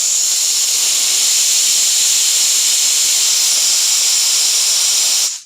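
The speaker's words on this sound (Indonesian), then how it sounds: "Saya buang dulu ya udaranya ya," Pressurized air venting from an Oiles HL1 oil-less 30-liter air compressor, a loud, steady, close hiss that holds without a break for about five seconds and then cuts off abruptly.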